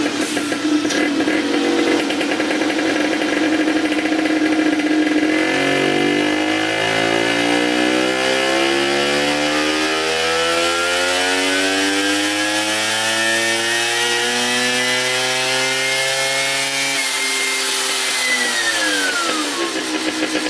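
Vespa GS150 scooter fitted with a SIP aluminium Nickel-lined piston-ported 150 performance kit, its engine revving loudly and steadily, the pitch climbing in long sweeps and then falling away near the end, with no voices.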